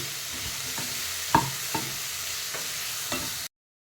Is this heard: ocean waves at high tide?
no